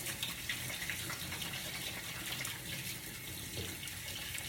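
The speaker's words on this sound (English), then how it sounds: "Wash my hands real quick." A kitchen tap runs steadily as hands are washed beneath it, with a continuous splashing gush, close and alone.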